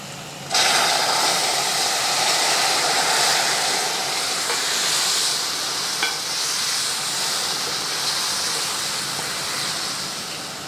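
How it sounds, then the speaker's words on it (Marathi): Hot milk is poured onto roasted semolina in a pan and sets off a sudden loud, sustained hiss of steam and bubbling. The hiss stays strong and steady for the rest of the clip. "तर यामध्ये हे गरम गरम दूध घालायचं"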